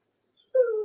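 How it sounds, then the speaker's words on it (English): A dog howls in the background, a single rising tonal wail that starts abruptly and holds steady for a moment, fairly clear and alone. "the dog howling in the back for the audience"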